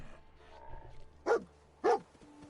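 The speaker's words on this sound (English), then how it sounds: "Dog found something." Dog in the Fallout 4 video game gives two sharp barks over quiet ambient game background.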